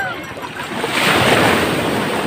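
Sea waves crash and wash onto a beach with a broad, loud roar that swells midway, mixed with wind buffeting the microphone.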